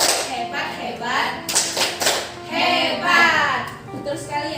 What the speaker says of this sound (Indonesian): kita tepuk hebat untuk ibu Ica